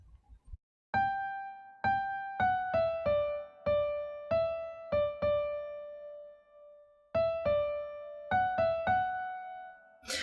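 Solo piano plays the verse melody of a song with accompanying left-hand chords, clear struck notes in a steady, moderate rhythm with a short pause midway, no talking.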